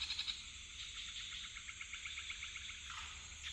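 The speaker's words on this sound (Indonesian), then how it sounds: "Oh, itu suara monyet." Animal calls ring out in a quiet Kalimantan village at dusk, repeated rhythmic chattering cries over a steady insect and frog chorus, moderately distant.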